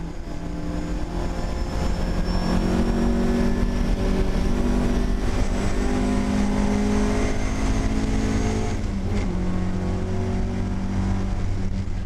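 A classic Triumph TR4 racing on track at Spa during the Spa-Classic event, its engine droning loudly at sustained high revs with a slight pitch change near the end, nearby and continuous with no talking.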